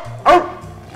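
A Dalmatian dog gives one short, sharp bark at close range, with a faint low hum underneath and quiet before and after.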